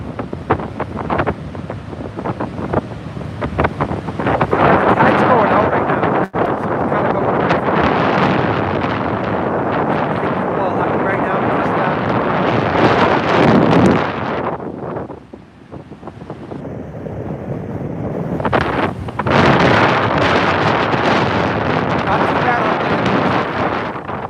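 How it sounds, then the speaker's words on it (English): Strong nor'easter wind buffets the microphone in loud, continuous gusts along the New England coast, with a brief lull before roaring back; a voice is faintly present under the wind. "And the wind picked up significantly just walking that 50 yards."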